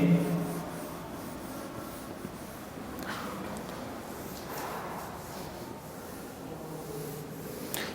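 Chalk or marker scratches and rubs across a board during a chemistry lecture, in faint, intermittent strokes against quiet room noise.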